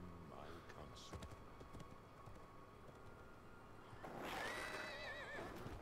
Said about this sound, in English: That's not Gandalf's horse.